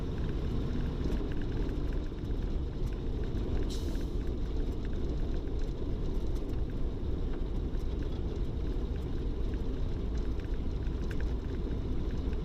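A 1934 Ford V8 Victoria with an 85-horsepower V8 accelerates hard in high gear, producing a steady, loud, low engine rumble with road and wind noise that continues unbroken throughout.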